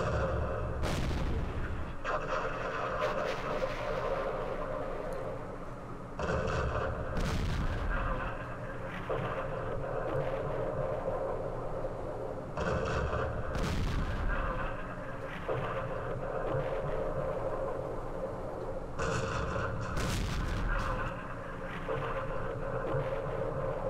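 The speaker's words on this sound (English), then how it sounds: "We have airstrikes now." Airstrike explosions in the Vietnam war strategy game Campaign Series Vietnam arrive as repeated heavy booms, roughly paired blasts spaced several seconds apart over a constant low battlefield rumble.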